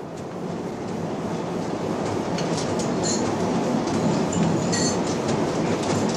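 A passenger train rolls along its rails, a steady loud rumble with faint high squeals and clicks of wheels heard from inside a cabin, continuous and unbroken, with no talk.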